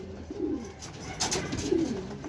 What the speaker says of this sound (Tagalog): Sunod-sunod yung dating ng ibon natin.